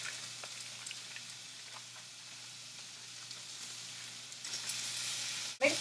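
Italian sausage and cream cheese sizzle and crackle softly in a pan on a stovetop burner, a steady faint fry with a few pops, ending in a brief louder clatter.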